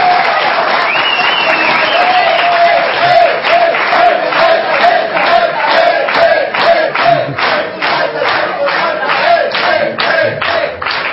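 A studio audience at a football club talk show keeps up steady, dense applause with cheering and whoops throughout, loud and close, with a voice speaking over it.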